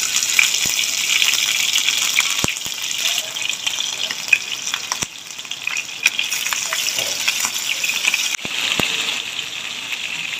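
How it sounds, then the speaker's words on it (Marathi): Prawns frying in hot oil for prawns koliwada, a steady close hiss and crackle of sizzling with a few sharp pops and clicks throughout, no voices. "आपली कोळंबी कच्ची नको राहायला म्हणून आपण थोडी तळून घेऊया।"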